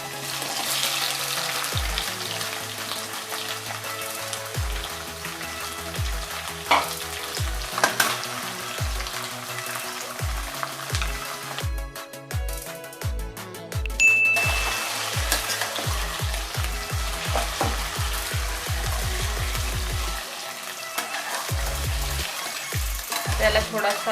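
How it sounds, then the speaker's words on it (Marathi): Chopped potatoes frying in a pan for Marathi-style sabudana khichdi, a steady close sizzle running throughout, with background music and no talk over it. "आता आपल्याला त्याच्यामध्ये लगेच बटाटे टाकायचे आहेत।"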